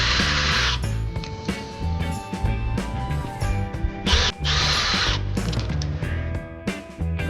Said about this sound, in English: I took the router bit and went all the way around.